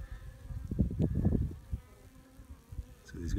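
A few honey bees buzzing close by in a starving hive, a soft irregular drone that swells briefly then fades, quiet and without talk.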